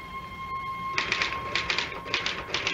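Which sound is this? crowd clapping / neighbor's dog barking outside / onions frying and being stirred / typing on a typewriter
typing on a typewriter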